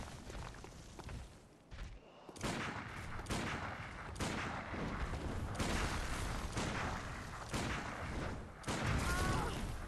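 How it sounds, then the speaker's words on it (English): Gunfire in the Bloodborne video game, a dense run of booming shots and blasts with thuds over several seconds, loud and near, with game sounds filling the gaps. "maybe I should just shoot this guy"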